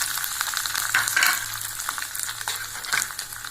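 Curry leaves and peanuts frying in oil, a loud close sizzle with sputtering crackles and stirring scrapes, no speech.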